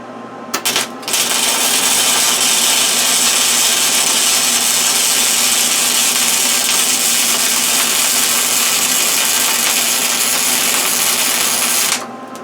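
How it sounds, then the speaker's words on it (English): MIG welder laying a bead on a clamped deer feeder hanger: a steady, loud crackling buzz that starts abruptly, holds for about eleven seconds and cuts off sharply, with no talking. "fire up the welder"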